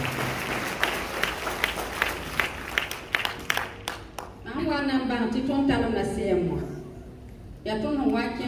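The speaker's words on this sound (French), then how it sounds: "Ça s'applaudit s'il vous plaît." Audience applause for a honoured African figure rises as a flurry of individual claps, thins out after about four seconds, then gives way to a person speaking loudly.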